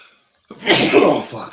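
One sharp, close sneeze bursts out after a moment of quiet, followed by a few muttered words from the same person.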